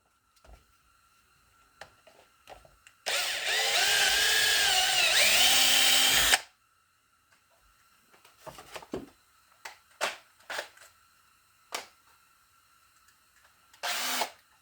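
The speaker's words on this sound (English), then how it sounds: "We come in here, just drill it again." A power drill whirs loudly and steadily for about three seconds, then stops; scattered clicks and handling knocks follow, with a short burst near the end.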